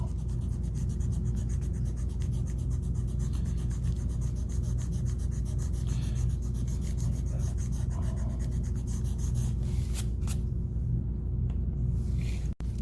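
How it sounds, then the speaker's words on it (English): Steady rubbing and rasping of an eraser scrubbing out writing on a chart, continuous and close, with a faint tap near the end. "so I'm just going to erase it."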